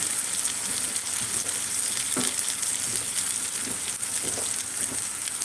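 Okra frying on a gas stove, a dense steady sizzle filling the whole clip, with occasional soft pops and stirring knocks rising over the hiss, close and loud.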